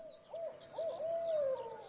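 A human voice imitates an owl's hoot during a children's bedtime story, giving a smooth, wavering two-part call that rises and falls alone in a quiet room.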